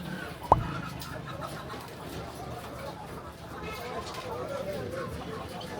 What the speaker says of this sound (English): Live chicken.